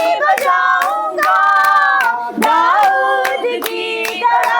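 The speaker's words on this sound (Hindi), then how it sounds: "मैं ताली बजाऊंगा" A church congregation at a Sunday service claps in steady rhythm along with a Hindi worship song, the regular claps sitting under loud, close group singing.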